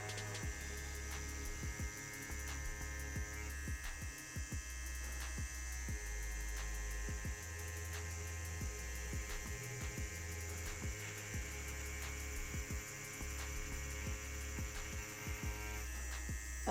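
A Bishop Packer Wand tattoo machine runs quietly with a steady, low electric hum and faint, even buzzing throughout, heard alone without any talk.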